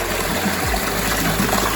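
Water runs steadily out of a home fish tank as it is drained for cleaning, a continuous close trickling and gushing flow with no pauses.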